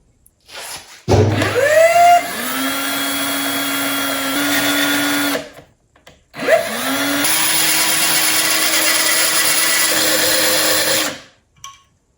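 Power-driven file grinding the end gap of a piston ring for a boosted LQ4 engine, two steady whirring runs of about four and five seconds each, close and loud, with a brief touch-down thud and no talk.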